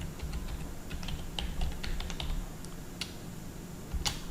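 Light typing of a word on a computer keyboard, a quiet run of close, crisp key clicks with short pauses between taps.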